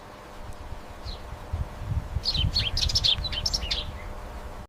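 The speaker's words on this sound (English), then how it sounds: "This is a sparrow." A sparrow chirps in quick, high, scattered bursts over a low rustling background, faint at first and busier toward the middle.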